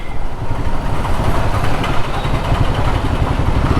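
A tuk-tuk engine drones loudly and steadily close by as the vehicle overtakes on a road, a continuous rattling hum with no break.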